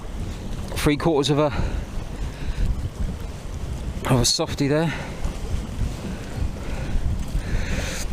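Steady, cold wind rushes and buffets the microphone throughout while drop shot fishing for wrasse, with a couple of short bursts of speech near the start and middle.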